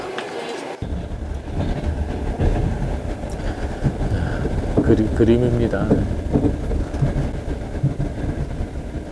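A long-distance passenger train rumbles steadily along the rails through Siberia with a continuous rolling drone, a voice speaking briefly over it.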